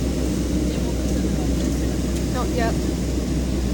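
Airplane taking off, a steady broad engine roar filling the whole clip at constant loudness, with people exchanging a few brief words over it.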